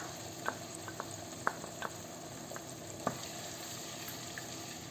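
Pureed tomato sauce for shrimp spaghetti sizzling softly in a pan, a faint steady hiss with a few light clicks of a spoon stirring, close and quiet with no speech.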